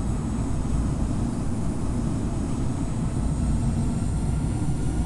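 Simulated engines of an Etihad Cargo Airbus A330-200F rumble in Infinite Flight during a multiplayer takeoff, a loud, steady low roar with a constant hiss above it and no change in level.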